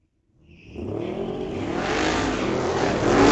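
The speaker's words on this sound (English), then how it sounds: "Allison Gibson in her ultra cool 66 Mustang. Is going to take on Kira Lang driving a 22 Dodge Challenger." A 1966 Mustang and a 2022 Dodge Challenger launch together at a street-legal drag strip, engines rising abruptly from silence into a loud, sustained roar that keeps building as the cars accelerate.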